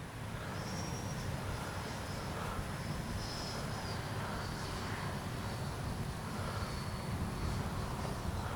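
A Freewing T-33 80mm electric ducted-fan RC jet comes in to land, a continuous broadband rushing whine with a faint high tone that stays steady and fairly distant throughout.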